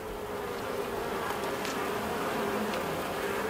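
Honeybees buzz close by during a hive inspection, a dense, steady hum with a few individual bees whirring past, no talking.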